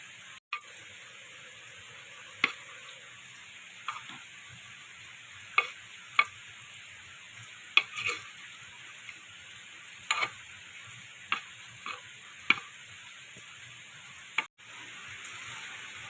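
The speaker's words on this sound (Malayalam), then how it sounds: "ഇതിലേക്ക് നമ്മുടെ വേവിച്ച് വെച്ച കടലയും ചേർത്ത് കൊടുക്കാം." Boiled chickpeas stirred into cooked yam and plantain in a pot, quiet soft background with a series of sharp spoon clicks and scrapes at irregular intervals, no talking.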